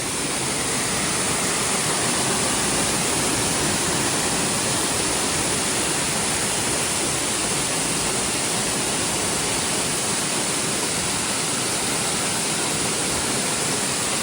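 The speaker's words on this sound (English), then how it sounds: "over here is a fabulous view of a waterfall here" A waterfall at Hawes roars in a steady, unbroken rush of white water that stays loud and even throughout.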